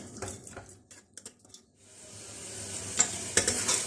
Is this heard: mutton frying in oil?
yes